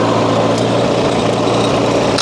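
Antique Farmall H tractor engine running steadily at close range, a loud continuous droning throb with no pauses and no voices over it.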